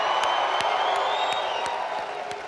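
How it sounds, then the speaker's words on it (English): Audience applause and cheering at a leadership seminar, a dense steady wash of clapping with a few scattered sharp claps on top, loud and sustained, slowly easing off toward the end. "Give a huge round of applause for them."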